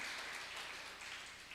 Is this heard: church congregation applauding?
yes